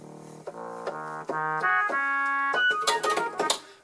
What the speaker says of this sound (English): what you're hearing is a trombone